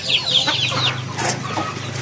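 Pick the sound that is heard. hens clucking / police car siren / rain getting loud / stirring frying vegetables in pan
hens clucking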